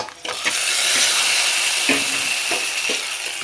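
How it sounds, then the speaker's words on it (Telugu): A loud, steady sizzle hisses throughout, broken by a few sharp clicks and clatters, as hot oil tempering with mustard seeds is poured into dal. "తాలింపు వేగిపోయిందండి మనం పప్పులో వేసేసుకుందాం"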